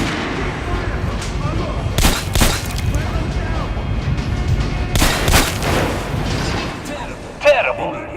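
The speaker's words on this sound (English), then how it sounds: "Shoot the dummy in the head." Gunshots at a training dummy in the shooter game Metro: Last Light Redux, loud reports standing out around the two- and five-second marks over a busy, noisy background with a voice speaking.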